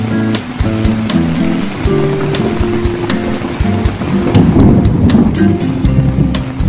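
Heavy rain with gusting wind over a flooded village field, a loud continuous roar of rain and wind buffeting the microphone, swelling midway, with no clear thunderclap.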